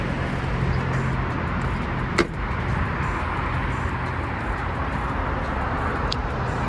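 Car wash background noise around a Ram 1500 pickup: a constant broad rushing wash of sound with a faint low hum, one brief sharp click partway through, and no voices.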